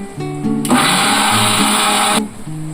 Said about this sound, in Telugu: ఇది కూడా మిక్సీ పట్టేసుకుందాము